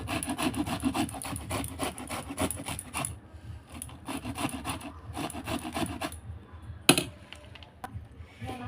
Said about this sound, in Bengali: এটা পাঁচ মিনিটের মধ্যে একটা ফুলকপি ঘষা হয়ে যায়